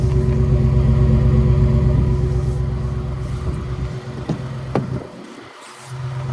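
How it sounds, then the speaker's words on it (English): A 2020 Saleen F-150 SportTruck XR Yellow Label pickup rated at 700 horsepower rumbles through its exhaust with a deep, loud, near idle burble that fades and dips toward the end, with brief clunks. "very nice exhaust."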